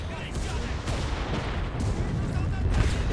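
A machine gun position fires in the World War II shooter Enlisted during the Battle of Berlin, a steady crackling fusillade of rapid shots and distant booms that keeps going the whole time, with talk mixed in.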